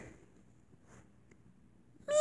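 A cat gives a single short, close meow at the end after near silence.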